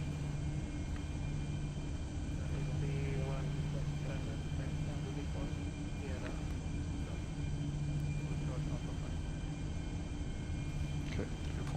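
Steady aircraft engine hum and rumble in a flight simulator game, heard while the plane taxis at an airport, constant and moderately quiet under a pilot's radio talk.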